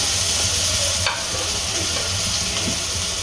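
Garlic paste fries in three to four spoons of hot cooking oil in a wok, a steady dense sizzle filling the whole stretch, with a few faint scrapes of stirring and no talk.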